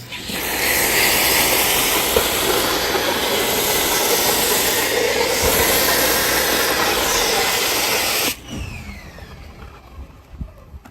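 A foam sprayer blasts car wash soap onto a car as a loud, steady hiss for about eight seconds, then cuts off abruptly, leaving a faint drip and spatter.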